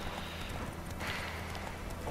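Geralt's horse in The Witcher 3 clip-clops at a steady trot, hoofbeats close and continuous over a low ambient game background, with no voice over it.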